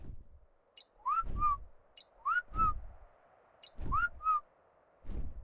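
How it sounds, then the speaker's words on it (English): A person whistles short rising two-note calls, repeated about four times in a steady rhythm, during a session of Ark Survival Evolved, with low thumps beneath each phrase. "If you're wondering why I'm whistling, I'm trying to see if they can hear me."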